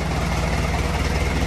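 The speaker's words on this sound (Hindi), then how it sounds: "लो जी इंजन की आवाज भाई चेक कर सकते हो" A John Deere tractor's 95 hp engine runs steadily at idle, a close, loud, continuous low diesel throb with even pulsing and no voices.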